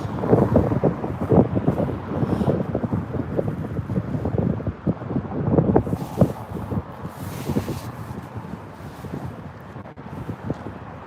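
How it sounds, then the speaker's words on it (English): Gusty wind buffets the microphone outdoors at London Heathrow airport, a loud, continuous rumbling roar that rises and falls throughout. "The wind is picking up"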